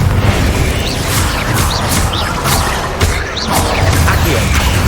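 Confringo blasting spells go off in Hogwarts Legacy, loud crashing booms and whooshing bursts repeating across the stretch, close and forceful, with a few sharp impacts in quick succession.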